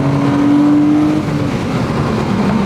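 A Porsche Cayman engine with a tuned exhaust drones steadily and loud from inside the car, with a thin whine that fades partway through.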